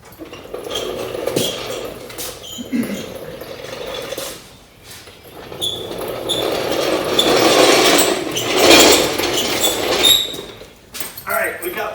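A car jack lifts the wheel of a 1955 Chevy onto a 1.5 inch lip on a garage floor, with metallic clanks and ratcheting clicks that come and go under nearby talk.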